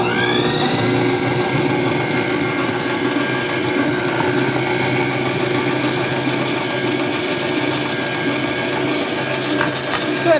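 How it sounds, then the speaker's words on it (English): An Acekool 7.5-quart 660-watt tilt-head stand mixer with a paddle attachment creams two sticks of butter, giving a loud, steady motor whir with a faint rhythmic knocking throughout, close up and uninterrupted. "So I have 2 sticks of butter in here. We're gonna go ahead and do some creaming."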